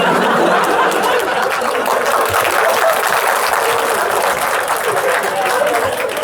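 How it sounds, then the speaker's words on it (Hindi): A university session audience breaks into sustained, dense applause that fills the room, loud and continuous, with faint chatter and chuckles mixed underneath. "ये तालियां बजाने का कल्चर ही बंद करना पड़ेगा"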